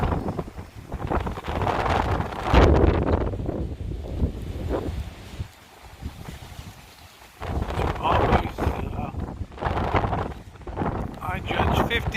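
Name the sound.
strong wind gusts buffeting a van during a windstorm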